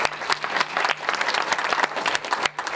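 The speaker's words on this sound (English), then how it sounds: "Catherine James, you can clap, please." An audience claps and applauds for a few seconds after someone is introduced at a public event. The sound is a dense, steady patter of many hands.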